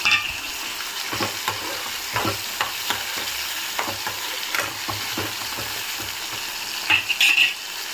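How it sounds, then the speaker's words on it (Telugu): Chopped tomatoes and green chillies stirred in a hot pan for coriander chutney, a continuous close sizzle broken by repeated spoon scrapes and taps against the pan, with no talking. "కట్ చేసి పెట్టుకున్న టమాటో వేసుకుందాము. ఒకసారి మిక్స్ చేద్దాము."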